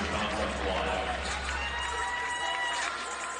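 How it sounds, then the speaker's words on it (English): Crowd at a women's college basketball game applauding a player leaving after fouling out, a steady wash of distant clapping and arena murmur with no break, under a low background rumble. "Gaston gets the hand from the crowd after fouling out of this one"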